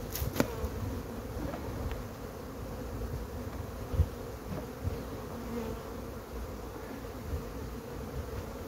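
A crowded honeybee colony hums at the entrance of its hive while being moved to a roomier one, a dense, steady buzzing of many bees held close and continuous throughout.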